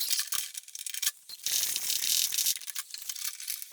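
A ratchet wrench tightens a bolt on a KTM 1090/1190/1290 motorcycle tank, giving close, rapid clicking and rattling in short bursts with brief pauses between strokes.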